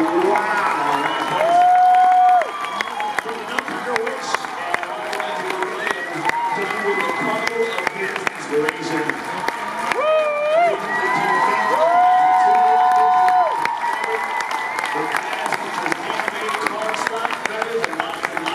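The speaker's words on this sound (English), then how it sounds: "give her a round of applause" Crowd at the New York Comic Con 2016 Eastern Championships of Cosplay applauds and cheers for a cosplayer, a long, loud wash of clapping and shouts under an announcer's amplified voice, with music playing through the hall.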